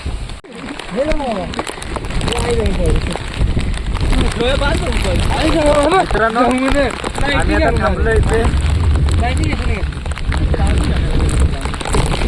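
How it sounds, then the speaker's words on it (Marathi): Steady heavy monsoon rain hisses throughout while someone talks over it close by, outdoors on a plateau. "पाऊस खूप जोरात आहे."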